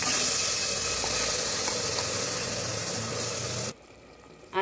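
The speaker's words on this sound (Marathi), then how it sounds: "आता हे आपले मटण टाकून घेऊया." Mutton hits a hot pan spiced with chili powder and sends up a loud, dense, steady hiss of sizzling that cuts off abruptly near the end.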